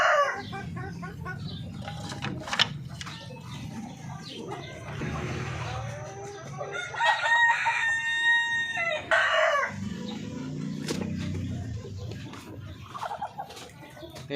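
A rooster crows repeatedly among a backyard flock of chickens, with clucking hens and other poultry calls overlapping in a busy, fairly close chorus.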